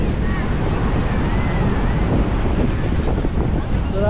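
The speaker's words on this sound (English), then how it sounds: "The real condition from Bali at the moment is too windy." Strong wind on the beach in front of the Stone hotel in Legian, Bali, roaring steadily across the microphone in a loud, unbroken rush, with waves surging underneath.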